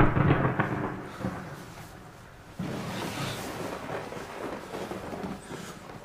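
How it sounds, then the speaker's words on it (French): Thunder rolls during a storm as a deep, rumbling boom that fades and then is followed by a second sharper crack and a long low roll, with no talking. "T'as peur de l'orage aussi?"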